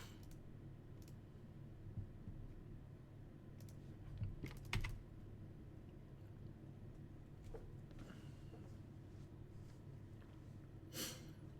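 Quiet typing on a computer keyboard: sparse, soft key clicks and a few brief clusters of taps over a steady background hiss.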